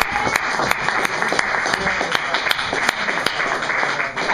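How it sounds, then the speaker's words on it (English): A comedy night crowd applauds for a comedian, a close, crisp burst of many hands clapping with sharp individual claps standing out, steady and loud for about four seconds. "a round of applause for Dan, man."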